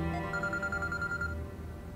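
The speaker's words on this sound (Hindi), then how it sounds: "ये लो उसका फोन आ गया" Telephone ringing with an incoming call, a repeated warbling electronic ring tone over a low background hum, moderately loud and steady before cutting off.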